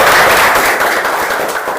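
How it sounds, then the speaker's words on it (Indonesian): Lively clapping from a classroom of pupils during a teacher's practical exam lesson, a loud, dense and steady burst of many hands that holds evenly throughout without any voices. "tepuk tangan dulu yang meriah untuk kita semua"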